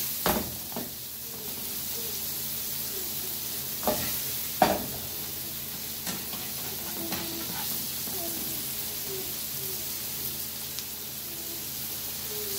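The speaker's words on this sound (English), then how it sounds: "So we're just gonna let this simmer for a while." Ackee and saltfish simmer in a pot with a steady low bubbling hiss, broken by a few sharp clinks and scrapes of a spoon against the pot.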